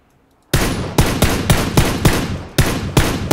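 Rapid rifle fire in PUBG Battlegrounds: eight loud, sharp gunshots in a fast, slightly uneven rhythm after a brief silence, each shot ringing with a short echo tail, no voices over them.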